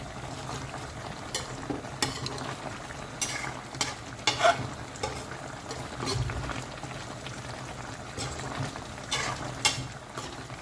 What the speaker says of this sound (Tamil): இந்த மாதிரி திறந்து வச்சு நாம் இந்த தண்ணி எவ்வளோத்தையும் நாம் நல்லா இவாப்ரேட் பண்ண வைக்கணும்.